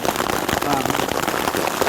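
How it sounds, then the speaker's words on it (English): Hail pelts down beside a rockbound alpine lake in the Sierra high country, a dense, loud, crackling patter of countless impacts filling the air without pause. "The hail's kicking in here."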